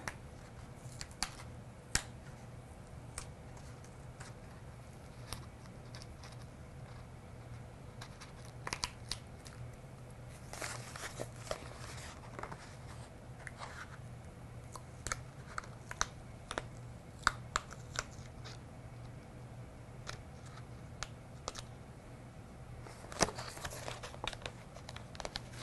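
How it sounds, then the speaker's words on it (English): Paper cutouts for cosmos flowers being peeled off an upturned cutting mat, giving quiet crinkles, small tearing sounds and sharp little ticks scattered through the stretch, close and soft, with no talking. "I'll just carefully peel off all of these pieces."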